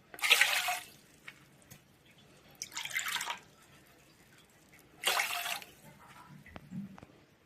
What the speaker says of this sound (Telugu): 4 కప్పుల నీళ్ళు పోసుకున్నాను